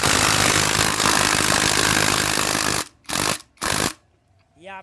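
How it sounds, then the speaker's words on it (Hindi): A power tool whirs loudly and steadily while tightening a bolt during a Bajaj Pulsar 150 service, then cuts into two short bursts before stopping, followed by a brief voice. "अब देखो हमें बोल्ट टाइट करना है"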